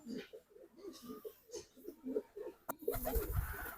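Pigeons in a backyard loft coo in a steady series of soft, low rolling calls, close by, followed by a louder burst of rustling and flapping near the end.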